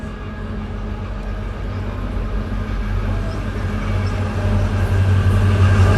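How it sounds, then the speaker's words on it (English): A heavy freight train rumbles steadily past nearby, a continuous low roar with rattling that builds slightly louder toward the end, no voices. "That was neither Via nor GO, simply transport train."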